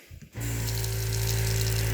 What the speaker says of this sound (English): it is so nice to have some running water again